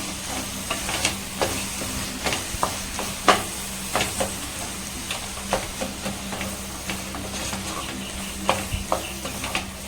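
Garlic and chili powder fry in oil for kala chutney, giving a continuous crackling sizzle punctuated by frequent light clicks and scrapes of a stirring spoon.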